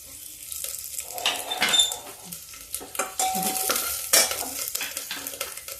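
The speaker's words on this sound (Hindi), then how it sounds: "अब हम प्याज डालते, लहसुन डालते हैं।" Onion and garlic fry in a little hot oil while cabbage curry is being cooked, with sizzling under repeated stirring scrapes and clinks of a spoon against the pan, close and busy.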